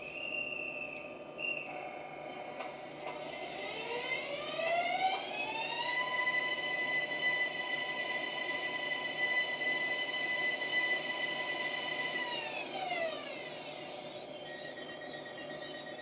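Jägerndorfer GYSEV Ventus model train running, with a steady electronic drive hum that rises in pitch, holds, then falls away, a faint horn-like tone near the end, no voices.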